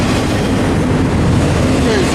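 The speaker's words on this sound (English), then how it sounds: "The end of the train's coming." A long freight train rolls past at Monolith in the Tehachapi mountains, a loud steady rumble and clatter of wagons close by that fills the whole stretch without letup.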